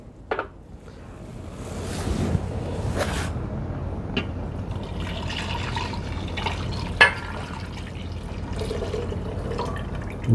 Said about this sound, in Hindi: इसमें अब हमने 1 kg दूध जो हमने रखा हुआ था फ्रेश वो डालेंगे।